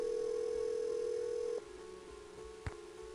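Telephone dialing in the 1998 Nancy Drew game Secrets Can Kill: a steady dial tone cuts off, followed by a short dialed beep, all quiet and without any speech.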